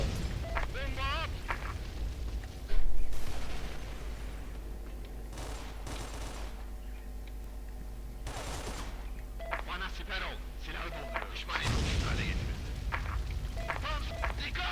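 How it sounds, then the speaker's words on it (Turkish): Bombs explode in the shooter game Skill Force 2: a heavy blast around the three-second mark and another near the end, set among steady crackling gunfire and game effects. "Kaç kaç kaç kaç bomba attı bu sefer"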